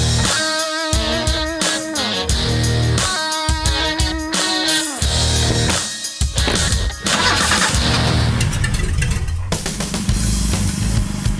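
A car engine cranks and catches, then revs in loud, stuttering bursts before settling into a continuous driving roar that swells and eases near the end.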